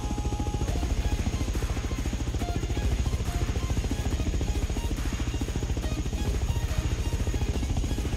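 A scrap attack helicopter in the video game Rust drones with a fast, steady rotor thump and engine buzz that stays loud and constant throughout, with no talk over it.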